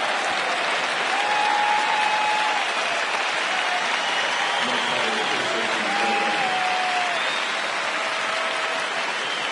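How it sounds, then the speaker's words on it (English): A baseball stadium crowd in Chicago applauds a Cubs pitcher during a 2010 game against the Reds, giving steady, distant clapping throughout with faint crowd murmur. "And Randy Wells will get a hand from this crowd."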